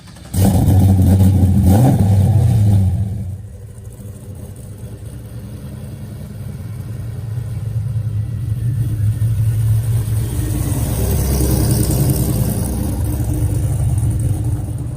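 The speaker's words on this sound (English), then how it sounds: "having a 750 horsepower LSA supercharged engine inside of their everyday work truck" A supercharged 750 hp LSA V8 in a Chevy square body work truck revs hard and loud for about three seconds, then settles into a deep, steady rumble that slowly builds, close by with no talking.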